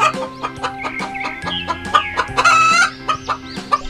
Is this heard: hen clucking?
yes